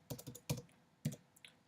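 A few quick, quiet keystrokes on a computer keyboard, typed close up in short clusters of clicks with brief pauses between them.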